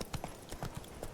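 Quick rhythmic hoofbeats of Roach, a horse in The Witcher 3 video game, clip-clopping close by in an even galloping pattern, with faint background game ambience.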